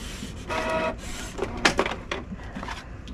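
A Canon G-series inkjet printer feeds thick paper, producing short mechanical whirs, clicks and rattles in uneven bursts at close range, with no talking.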